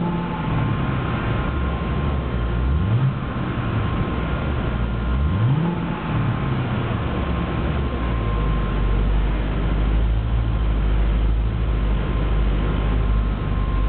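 A 2009 Cadillac CTS-V with manual transmission and aftermarket exhaust idles with a deep steady rumble, punctuated by a couple of sharp rising revs that fall back, then a sustained heavier drone, loud and close with no talking.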